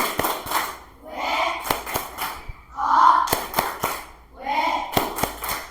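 A classroom of students performing the 'tepuk wow' clap chant, sharp rhythmic claps in short grouped bursts interleaved with voices chanting along.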